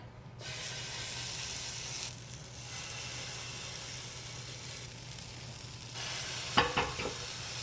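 Banana pancake batter from fresh-milled flour sizzles steadily in a hot pan, a constant close frying hiss with a brief louder crackle and clatter near the end.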